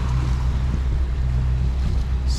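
A Hanse 508 sailboat moves across the sea under steady, loud wind rush and water wash, with a continuous low roar and no voices.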